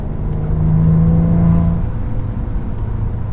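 A 2017 Maserati Quattroporte's engine revs and holds a rising note for about a second from inside the car, then eases back to a lower drone over steady road and cabin rumble.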